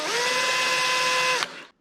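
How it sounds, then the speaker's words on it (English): A 6 millimeter drill bit whirs steadily while marking a Vespa PX steering damper mount, a loud, sustained whine with a steady tone that cuts off sharply and then spins down briefly. "you make your mark just like on the top with a 6 millimeter drill"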